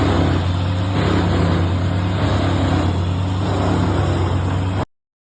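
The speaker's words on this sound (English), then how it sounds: "razor-sharp blades tear through the tough eucalyptus wood" An HJ550 PTO-driven wood chipper hooked to a tractor shreds tough eucalyptus wood in dry Australian country, a loud, unbroken roaring grind that holds steady before cutting off abruptly.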